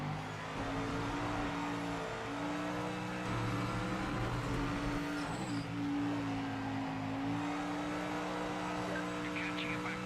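A race car engine in the Project Motor Racing sim game drones steadily at high revs through the whole stretch, with faint tyre noise and a voice talking quietly underneath.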